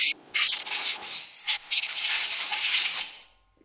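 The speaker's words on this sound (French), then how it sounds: "je vais mettre un léger coup de soufflette pour évacuer la poussière de freinage qui aurait pu stagner à l'intérieur des trous" Compressed air from a blow gun hissing through the holes of a drilled brake disc to clear brake dust, one continuous loud rushing blast with short sharper bursts, ending abruptly.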